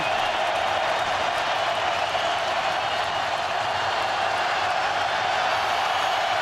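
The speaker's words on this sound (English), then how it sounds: "You hear the crowd pick up the noise" Crowd roar fills a football stadium during a Bengals at Saints game, a steady, dense wash of many voices holding loud and unbroken throughout.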